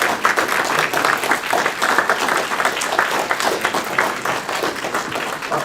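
Sustained applause from a state political party convention audience honoring the convention chair, a dense wash of many hands clapping steadily throughout, close and loud, with faint crowd murmur beneath.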